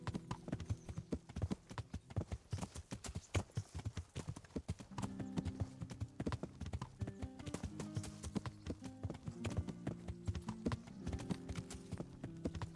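Horse hooves in a video game clip-clop in a steady walking rhythm, loud and close throughout, with music layered underneath and a faint whinny.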